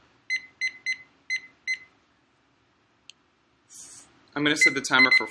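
A timer beeps five times in quick electronic bursts, then after a short pause a single faint blip follows and a person starts talking.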